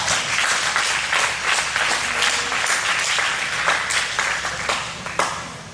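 A youth church audience claps together in a full, sustained round of applause that swells and then tapers off toward the end.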